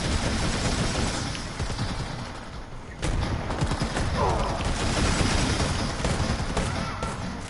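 Gunfire from the Hunter video game, set in an overgrown area, rattles steadily and continuously at close range, with sharp bursts mixed into a dense, busy game soundscape.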